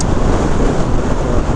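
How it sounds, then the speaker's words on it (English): Loud, continuous wind buffets the microphone on a Ducati Scrambler Cafe Racer motorcycle ride, a dense roaring rumble with no pauses and no voices. "Unfortunately, it's a very windy day today"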